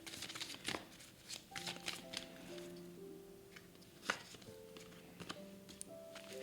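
Tarot cards shuffled and drawn from a deck, soft riffling flicks and card snaps scattered in short bursts, close but quiet, with faint sustained musical tones in the background.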